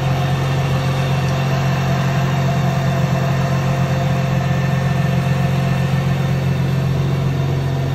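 A BMW GTR motorcycle engine runs at a steady idle, its even, loud mechanical drone and low hum close by, constant from start to finish with no speech.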